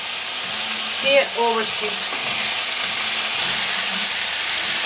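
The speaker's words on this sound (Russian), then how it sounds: "Мясо поджаривается." Meat with vegetables and garlic sizzles steadily in a pan on a home stove, a constant close hiss with faint stirring and brief background tones, while someone says a few words.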